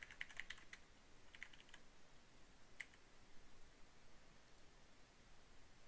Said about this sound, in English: let me type something here